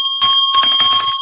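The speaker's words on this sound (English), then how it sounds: "Sounds like a dinner bell." A loud hand bell, cowbell-like, rings to mark a bingo win, with a rapid run of bright metallic clangs packed close together over about a second.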